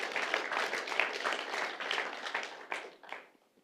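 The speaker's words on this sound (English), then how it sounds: "let's give another applause" Applause from a synagogue congregation during a livestreamed service, a dense wash of many hands clapping steadily for about three seconds before tapering off into quiet.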